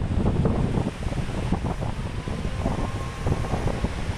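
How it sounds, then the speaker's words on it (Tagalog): Strong wind buffets the microphone on Boracay beach, a loud, constant roar that mixes with surf washing ashore. No one speaks. "lakas ng hangin"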